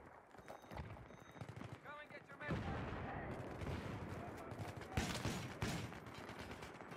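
Shotgun gunfire in a Battlefield video game, several sharp blasts and bursts of shooting amid busy in-game noise, fairly faint overall, with a voice talking over parts of it.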